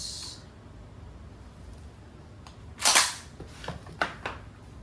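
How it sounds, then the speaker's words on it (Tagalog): A Crosman R1 airgun fires in semi-auto mode: a sharp, loud crack followed by a few quicker, fainter pops spaced about half a second apart, outdoors against a quiet background. "Firing. Semi-auto"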